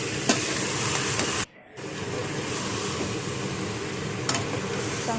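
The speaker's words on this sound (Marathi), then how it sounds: "चांगलं तेल सुटूस चिकनला भाजायचं" Chicken frying and being stirred in a pan of hot oil on a gas stove, a steady dense sizzle close by that cuts out for a moment before resuming, with occasional scraping clicks of stirring.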